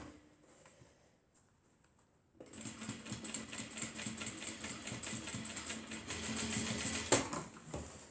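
After a quiet start, a sewing machine begins stitching a crossbody mini bag seam with a back stitch about a centimetre from the edge, running in a steady, rapid mechanical patter with a high whine.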